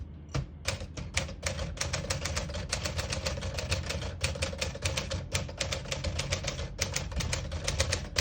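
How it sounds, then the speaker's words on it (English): Rapid, steady typing on a 1957 Smith-Corona Clipper portable typewriter, dense clacking keystrokes with carriage and ribbon mechanism rattle, close and continuous for the whole stretch without talk. "It sounds kind of different than most typewriters. It sounds like Clipper."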